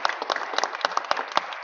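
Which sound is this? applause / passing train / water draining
applause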